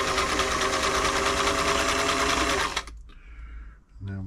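Serviced Singer 348 sewing machine running fast on a fine short stitch, a loud, close, steady mechanical whir that stops abruptly near the end, followed by a brief lull and a short restart.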